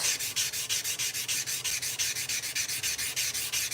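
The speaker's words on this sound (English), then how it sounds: "So I am sanding right now at 220 grit with a piece of red line Rhino Wet." Steady rhythmic back-and-forth sanding strokes with 220 grit Rhino Wet wet sandpaper, a bright raspy hiss repeating several times per second, close and alone.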